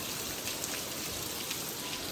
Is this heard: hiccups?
no